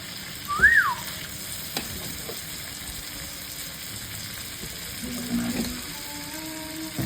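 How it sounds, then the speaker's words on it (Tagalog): Freshly cooked rice fries in a pan for garlic fried rice, a low, steady sizzling hiss with occasional scraping stirs and a short whistle-like squeak near the start. "bagong sinaing na bigas. Isasangag."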